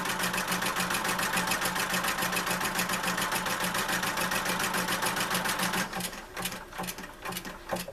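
A sewing machine zigzag-stitches along two cords for a small artisanal basket: a fast, steady, loud rhythmic needle chatter that runs without pause, then slows and stutters near the end.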